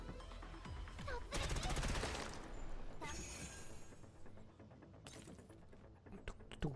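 Gunfire in the video game Girls Frontline 2: Exilium comes in loud rapid bursts with dense crackling volleys, broken by short pauses, all set over game music.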